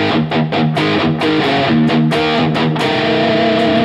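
Heavily distorted electric guitar plays a riff, a loud, steady run of chugging, harmonically thick notes with sharp rhythmic attacks and no voice over it.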